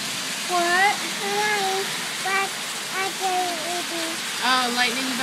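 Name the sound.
heavy rain during a rainstorm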